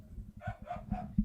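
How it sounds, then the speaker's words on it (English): A dog barks three or four times in quick succession behind a live football match commentary on Aston Villa versus Liverpool in the FA Cup third round, fairly close and moderately loud. "Sorry if you can hear the barking."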